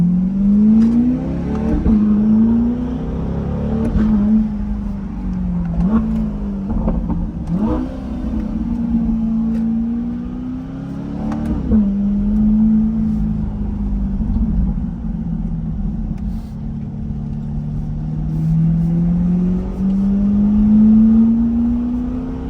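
Chevrolet Corvette C8 driving, engine humming and revving in repeated rising and falling pulls over a constant rumble of road and cabin noise, close and fairly loud.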